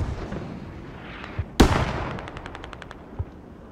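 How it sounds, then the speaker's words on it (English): Mortar shells landing on a base in a video game battle, a sharp loud blast at mid-clip with a rattling tail of rapid distant gunfire and a few fainter thumps around it. "Mortars are landing on the hab."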